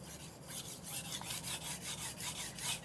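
Knife blade drawn in repeated strokes across a medium grit sharpening stone with light edge-trailing pressure, giving a steady rhythm of close, crisp scraping rasps about five per second.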